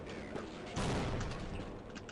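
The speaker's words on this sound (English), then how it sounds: "I'm going to throw these grenades at them" Grenade blasts in the video game Half-Life, a burst of broad explosive rumble after a short pause, with distant debris and echo trailing off.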